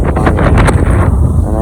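Strong wind buffets the microphone outdoors at a farm, a loud continuous roaring rush with gusty swells throughout the short stretch and no talk.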